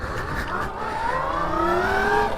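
A Sur Ron style electric dirt bike switched into race mode gives a steady, fairly loud electric motor whine that rises in pitch as it speeds up, with wind and road rumble underneath.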